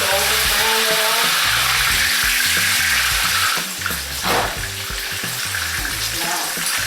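Food frying in hot oil in a home kitchen until golden brown, a steady dense sizzle and bubbling that runs throughout, with faint water-like hiss and brief clatter partway through.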